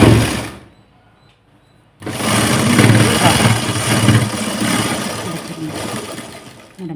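Sewing machine running steadily as it stitches a blouse seam, a rapid whirring hum that starts after a short quiet pause and continues loud and continuous to the end.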